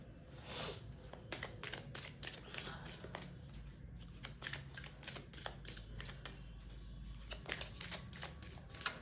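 Tarot cards are shuffled and handled close up in bursts of quiet riffling and flicking, with soft papery rustles spread over the whole stretch under a low background hum.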